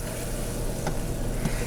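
Vanilla being stirred into vegan caramel sauce for caramel corn, a brief steady bubbling hiss with a couple of faint spoon clicks, close and unaccompanied by speech.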